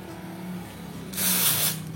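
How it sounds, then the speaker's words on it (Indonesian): Carburetor cleaner is sprayed onto a motorcycle's CKD HSAS valve: a single short aerosol hiss, about half a second long, bursts out after a quiet low hum. "Terus ini valve CKD semprot pakai carbo cleaner"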